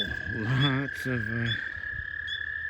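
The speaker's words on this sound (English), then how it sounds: "lots of frogs." Frogs call at night in the woods with rhythmic, pulsing croaks in two bursts against a steady high insect drone, fairly close, with a faint voice in the background.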